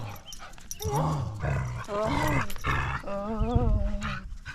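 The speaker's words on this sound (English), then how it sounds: "Savage dog pack." A pack of dogs on Siquijor island in the Philippines barks, yips and whimpers close by, with overlapping high whines and short barks in a continuous, lively chorus.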